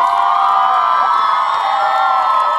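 Loud, steady crowd cheering and whooping at a live concert in Shumen, greeting the guitarist with sustained enthusiasm from start to end, with no talk over it.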